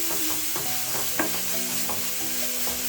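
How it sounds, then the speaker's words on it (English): A spoon stirs seasoning into coconut chicken curry in a pan, with steady soft scraping strokes over a constant gentle sizzle, close up and with no voices. "Then I'm also going to add in some seasoning as well. Then I'm going to mix this in."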